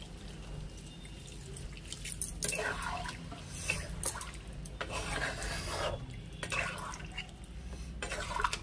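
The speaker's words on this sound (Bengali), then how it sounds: "এবার এর মধ্যে জলটা দিয়ে দেবো, এটা একটু উষ্ণ গরম জল আছে।" Warm water poured into a pot of browned country chicken, a splashing, trickling pour in several bursts with faint clinks of the pot in between.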